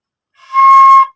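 A single clear, breathy recorder note played with a hole open, held for under a second, steady in pitch, close and loud.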